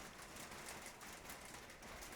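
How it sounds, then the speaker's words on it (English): Steady rain falling outdoors, an even hiss of drops on surfaces running throughout at a constant low level, with no talk. "Here comes the rain."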